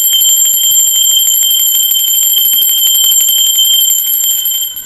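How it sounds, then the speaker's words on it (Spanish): A bright metallic bell rings continuously with fast, even strikes, loud and close, sustaining a shimmering high tone for several seconds before stopping. "¡Va campana!"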